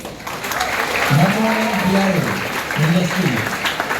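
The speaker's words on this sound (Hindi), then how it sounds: "एक बार जोरदार तालियां" Audience applause at a backstage event in India, with a voice calling out over the steady clapping and cheering throughout.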